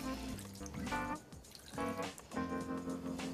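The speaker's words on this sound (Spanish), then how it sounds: "Le añadimos medio vaso de agua" Half a glass of water is poured into a roasting tray holding a lamb shoulder, a steady trickling splash lasting a few seconds, close and moderately loud, with no talking.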